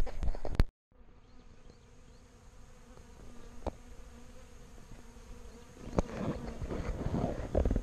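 Steady buzzing of a honey bee swarm congregating around a hive during a first-time swarm capture, a continuous insect drone at close range with a brief sharp rustle near the start and a few soft knocks.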